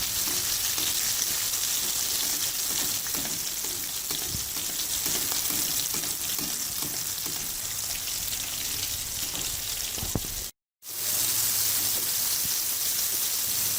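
Chicken fries in hot oil until golden, a dense, loud, continuous sizzle close by that sounds almost like rain, with one brief cut to silence and no talking.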